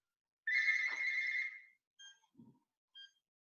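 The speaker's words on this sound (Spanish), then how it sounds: "tengo un teléfono sonando" A telephone rings with a short electronic tone, then a few softer beeps follow at intervals, heard faintly and alone in a quiet room during an online meeting.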